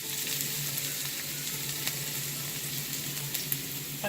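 Garlic, onion and green chili sauté in hot oil with a dense, continuous sizzle that holds steady and close, broken only by a few faint utensil taps, no voices.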